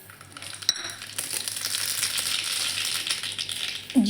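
Mustard seeds hit hot oil in a tadka pan and sizzle and crackle steadily at close range, with a sharp tap near the start and a brief clink at the end.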